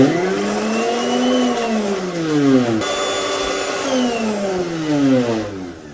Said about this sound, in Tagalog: So, kung blender lang ang gagamitin nyo, kayang-kaya niya yan.